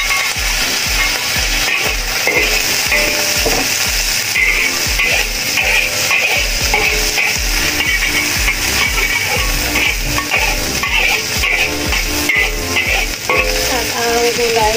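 Fried rice with green peas sizzles loudly and steadily in a hot pan, with occasional stirring scrapes and utensil clinks over the constant frying hiss.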